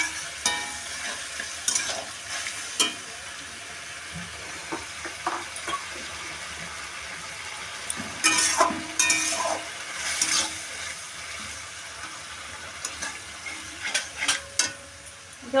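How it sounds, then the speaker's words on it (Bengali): Chili chicken sizzles and bubbles in a pan with a little water added, a steady close crackle broken by scattered clinks and scrapes of stirring, with no talk. "একটু জল দিয়ে দিচ্ছি"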